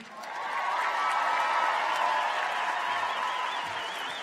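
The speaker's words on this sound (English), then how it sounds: "Clap for our students, please, and your children." A crowd applauds a graduating class of 2022 at a school ceremony, steady dense clapping that swells quickly and holds loud throughout, tapering only slightly at the end, with no talk over it.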